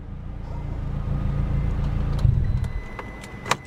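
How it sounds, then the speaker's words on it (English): A 2005 Ford Fiesta ST idles with a low, steady rumble that fades out as the engine is shut off, followed by a few faint clicks in the quiet. "Let's go ahead and shut her down."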